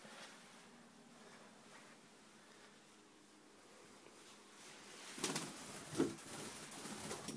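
A pigeon loose indoors, with faint cooing and soft rustling, then a burst of wing flaps and scuffling near the end.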